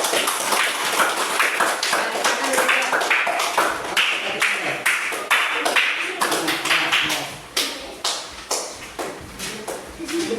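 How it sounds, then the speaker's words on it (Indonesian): A classroom full of students claps for the first group, with dense, steady applause that continues for about ten seconds, loud and close. "beri tepuk tangan dulu buat kelompok 1-nya"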